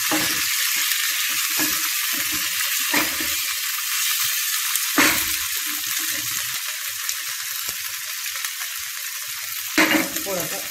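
Sliced atta and green-pea snack pieces frying in a pan give a loud, steady close-up sizzle, broken by occasional clinks and scrapes of stirring, with no talking.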